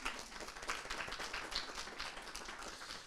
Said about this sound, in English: So maybe a warm applause.